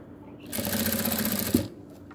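Sewing machine running steadily for over a second while stitching folded fabric along the edges of a sleeve, a close, even whir that starts and stops cleanly with a brief knock near the end.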